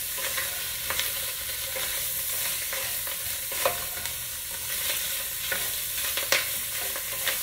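Pieces of smoked sausage fry in a pan with a constant close sizzle, broken by occasional scraping stirs and light clatter, for a casserole of Creole spaghetti with three meats; no one speaks.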